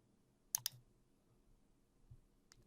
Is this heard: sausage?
no